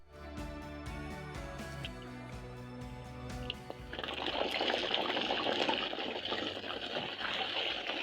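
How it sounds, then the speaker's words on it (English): Cooking oil, heated in a pan for potato stir fry, begins to sizzle and bubble around a test potato piece: a quiet, steady hiss that jumps in intensity midway and stays bright and continuous. "Once you notice small bubbling, the oil is ready."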